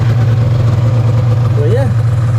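An Arctic Cat 440 two-stroke snowmobile engine fitted to a wheeled quad idles warm and close, a steady, even low drone, with a short spoken phrase near the end.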